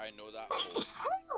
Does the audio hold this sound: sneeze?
yes